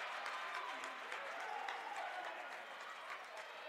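Crowd noise rises from the stands at a boys basketball district game, a steady broadband roar of cheering and murmuring that holds evenly throughout at a moderate distance.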